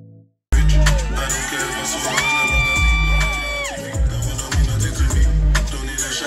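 A loud crowd screams, cheers and whoops continuously at an award event during a PANS convention, with shrill voices and a sustained whistle-like tone rising above the roar.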